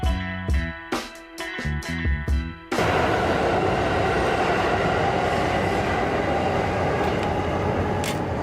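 A subway train passes beneath a metal-covered street vent, starting with a few sharp rhythmic clatters and then swelling into a loud, continuous roaring rumble that fills the rest of the clip with no talking.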